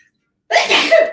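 A single sharp human sneeze bursts out after a short silence, loud and close, with a breathy onset and a strong voiced burst that trails off.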